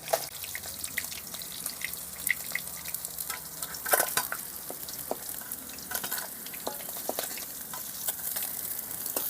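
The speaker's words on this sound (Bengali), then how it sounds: "এরকমভাবে লাল লাল করে বাকিগুলো ভেজে নেব" Pieces of rohu fish fry in hot oil in a home kitchen, a soft continuous sizzle sprinkled with sharp crackles and spatters, fairly quiet with no talking.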